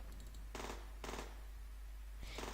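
A submachine gun in a zombie defence video game fires three short rapid bursts, separated by brief pauses, each burst crisp and close.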